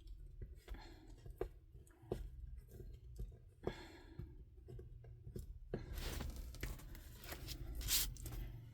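Backing being peeled off double-sided tape while crafting a homemade traveler's notebook, a few faint crackly tearing and sticky peeling sounds, quiet and close, with a louder rip near the end.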